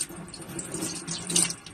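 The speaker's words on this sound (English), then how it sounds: "we cleanse it by running it through cool water" Jet hand charm amulet (Mano de Azabache) rinsed under running cool tap water, a steady close faucet stream with splashing that swells briefly near the end, no voices.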